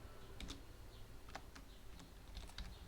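Typing on a computer keyboard while entering items into a Python GUI listbox, a short sparse burst of individual key clicks, close and fairly quiet over faint room noise.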